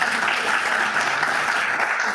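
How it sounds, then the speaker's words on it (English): Steady, dense applause from a crowd at a Downey city council meeting, filling the room at a constant level for a couple of seconds. "another round of applause, please."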